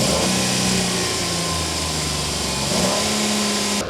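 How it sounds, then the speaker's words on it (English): Engines of a Dodge Nitro and a Chevrolet Equinox revving against each other, a steady close engine drone with shifting pitch that rises and falls without a break, no voices. "It seems a Chevrolet Equinox has come to take the territory of the Nitro. It looks like we're about to see them fight. They might go into a rev battle"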